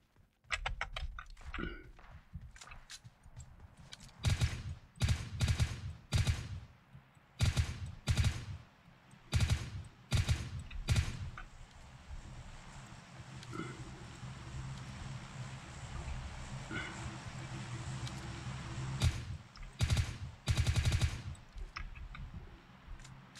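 Gunfire in the mobile battle game PUBG Mobile Lite: repeated bursts of rapid shots in clusters, some loud and close, others lighter, over a steady background hum with pauses between volleys.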